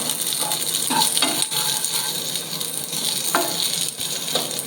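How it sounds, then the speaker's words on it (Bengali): Onion fries lightly in a little white oil alongside capsicum and green chillies for chilli paneer, a continuous bright sizzle with a few brief spoon taps and scrapes; no speech. "এরপর পেঁয়াজটা দিয়ে একটু হালকা ভেজে নিতে হবে"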